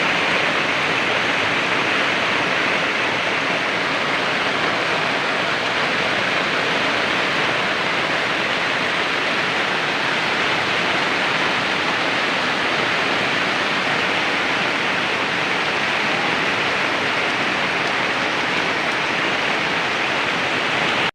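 Steady, dense rainfall hisses continuously at an even level, with no voices or breaks.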